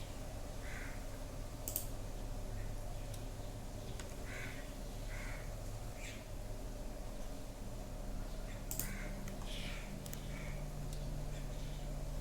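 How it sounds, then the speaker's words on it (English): Faint computer keyboard key presses click a few times while someone works in PCB design software, with scattered light taps over a steady low hum. "To copy the diode, press C in the keyboard."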